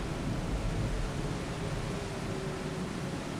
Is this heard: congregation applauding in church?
no